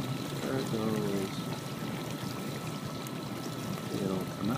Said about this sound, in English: after I show you the dripping water, oh, here it comes, starting to come out that hole